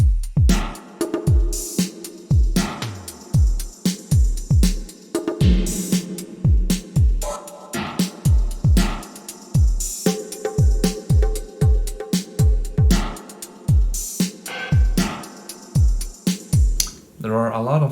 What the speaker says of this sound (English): Metroid Prime has these very cool electronic drums that sound kind of a bit harsh